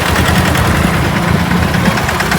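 Tractors at a tractor rally in a village give a loud, dense, continuous engine rumble with a steady throbbing idle, close by, with no voices.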